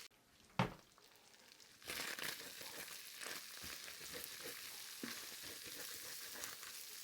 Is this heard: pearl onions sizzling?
yes